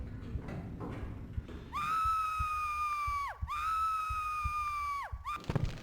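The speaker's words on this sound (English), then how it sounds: "This is the only place in the game where it's high enough that Lara will actually scream twice" Lara Croft in Tomb Raider Remastered screams twice during a long fall, two sustained high cries with a sharp dip between them, the second trailing off; a thud follows, with game ambience underneath.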